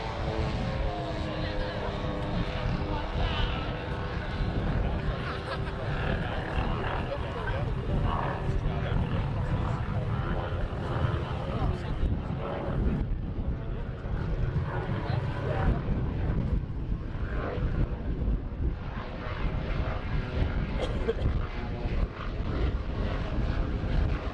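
A large model aircraft flies at the Elvington model air show, its engine droning steadily and loudly throughout, with broadband wind and crowd noise and talking over the top.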